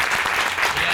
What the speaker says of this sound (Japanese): 皆様大きな拍手してください。